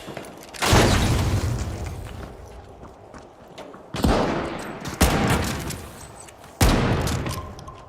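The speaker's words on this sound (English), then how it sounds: "Frag grenade out" Frag grenade blasts and gunfire crack in a shooter match of The Finals, four sharp loud booms spaced a second or more apart, each decaying quickly into a low rumble.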